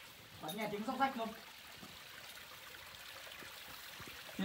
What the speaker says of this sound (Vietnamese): bạn nghe tiếng róc rách không?